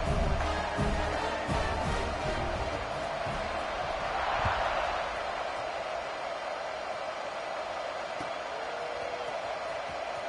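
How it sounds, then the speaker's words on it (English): Crowd buzz in a college football video game, a steady broad murmur of stadium noise after a score, with faint thumps and a brief swell, no talk. "this crowd is buzzing after that last score"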